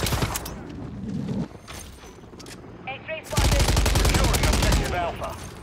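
Rapid automatic gunfire from Call of Duty Modern Warfare III, with bursts crackling through the first seconds and then a sustained, loud barrage of fast shots dominating the second half, players' voices talking faintly underneath.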